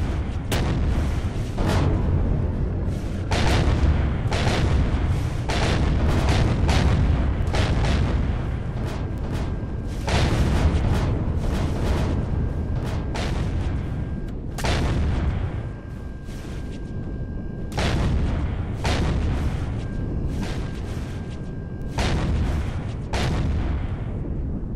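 Turrets fire repeatedly in the space game Empyrion, attacking a Bastion. Loud booming shots come in quick irregular bursts and clusters over a continuous rumble, and no one speaks.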